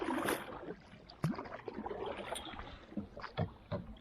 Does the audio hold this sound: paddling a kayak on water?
yes